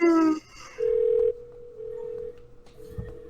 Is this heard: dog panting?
no